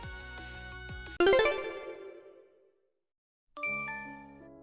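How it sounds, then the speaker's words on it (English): Phone ringtone playing a bright tinkling melody in two separate bursts, with a silent gap between them, fairly soft and heard alone with no talking. "Hurry up and answer the phone."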